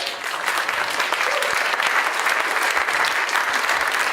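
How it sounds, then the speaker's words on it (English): Sustained audience applause at the close of a Supercell game-design talk about Clash of Clans, a dense steady wash of many hands clapping at even loudness from start to end. "A big applause."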